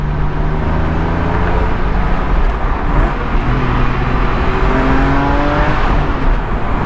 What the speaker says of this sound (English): Classic 911 for you, baby.